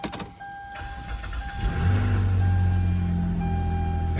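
A 2008 Hyundai Santa Fe engine cranks and catches around the midpoint of the clip, then settles into a steady, fairly close idle. A faint clatter is heard beforehand.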